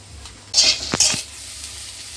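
A spatula scraping and stirring spiced potato filling in a hot pan, a few close scrapes and clinks over a faint sizzle.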